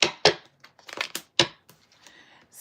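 Crisp, papery riffling and snapping bursts as tarot cards are shuffled, close by, in a few quick irregular flurries with quiet gaps.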